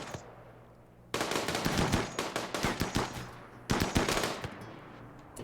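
Rapid automatic gunfire in the video game Space Piracy, two loud bursts of sharp, repeated shots separated by a brief pause, close and without talk.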